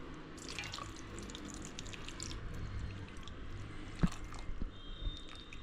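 About one and a half glasses of water go into a pressure cooker holding potatoes and a cloth bundle of green pigeon peas, a faint, soft trickle with a few small drips and a sharp clink near the end.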